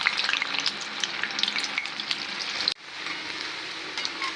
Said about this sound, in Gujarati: બનાવેલા મંચુરિયન બોલ તેલની અંદર એડ કરીશું